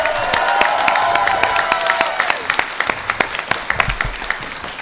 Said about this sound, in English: let's give a big round of applause for Laurie McDaniels.